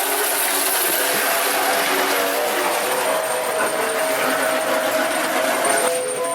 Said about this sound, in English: You got a train around.